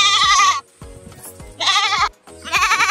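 A goat on a farm gives three loud, close bleats, each about half a second long with quiet pauses between them, and a few faint knocks and rustles in the gaps.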